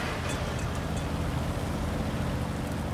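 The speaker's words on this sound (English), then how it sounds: "We go to hear what the engine noise is on this turbine tank." A turbine-powered tank engine runs in a tank video game, giving a steady, broad rushing drone with no clear changes across three seconds.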